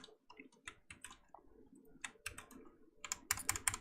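Quiet, close keyboard typing on a computer during an Unreal game-development session, irregular bursts of sharp key clicks with short pauses, ending in a quicker, louder flurry of strokes.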